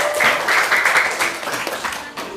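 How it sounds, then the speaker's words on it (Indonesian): Classroom applause for a student: a short burst of brisk clapping from a group of pupils, loud and close, with voices mixed into it. "Beri tepuk tangan untuk Lulu dulu."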